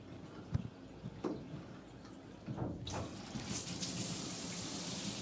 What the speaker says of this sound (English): Big rainfall shower.